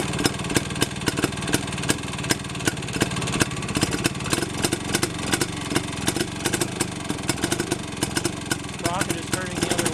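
A small engine running backwards after being started in reverse, its sprocket turning the opposite way: a steady, loud, fast-firing putter with sharp regular pulses throughout, up close.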